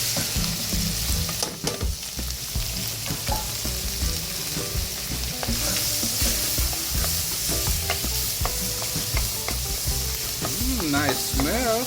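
Shrimp stir-frying in garlic butter in a hot pan, with a steady, loud sizzle and spatter and repeated scraping stirs of the utensil throughout, with no voices.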